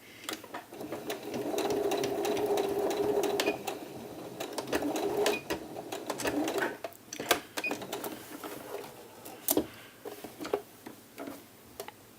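Sewing machine stitching a blouse sleeve, a close steady mechanical whir in runs with pauses, and sharp ticks and clicks as the work is pivoted around corners.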